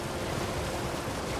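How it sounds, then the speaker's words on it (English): A waterfall rushing in the Elden Ring DLC video game, a dense, steady roar of falling water that fills the whole moment without change. "surely, there's something behind the waterfall."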